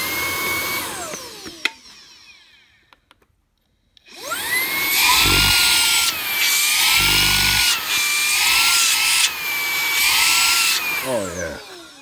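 Hart brushless 20V cordless stick vacuum starts up after a quiet gap and runs loud and steady up close, its motor whine shifting pitch slightly as it works, with no talk over it.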